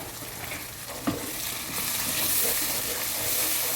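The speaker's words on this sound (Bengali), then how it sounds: "পেঁয়াজের সাথে আদা রসুনটা ভালো করে বাইজে নিব" Ginger garlic paste fries with browned onions in a hot pan for chili chicken, a steady, loud sizzle that thickens partway through, with a soft knock of stirring near the start.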